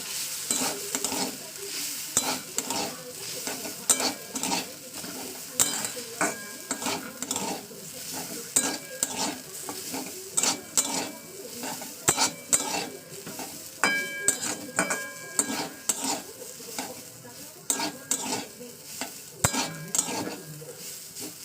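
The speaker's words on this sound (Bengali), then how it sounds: "ডালিয়া দিয়ে আবার একটু ফ্রাই করতে হবে" Dalia (broken wheat) being stirred and fried in a pan, with repeated metal spoon scrapes and clinks against the pan in an irregular rhythm over a soft continuous sizzle, close and fairly quiet.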